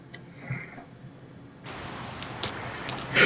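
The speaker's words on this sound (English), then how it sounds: "So it is raining on the 16th here" Rain in the Persona 4 Golden video game, a soft steady patter that starts about halfway through after a quiet lead-in and swells slightly toward the end.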